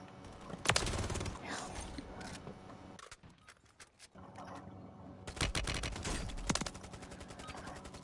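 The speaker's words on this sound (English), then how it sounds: "I bet I could fry this kill with my SMG." SMG gunfire in a video game, two rapid bursts of automatic fire separated by a short lull, loud and close amid game effects.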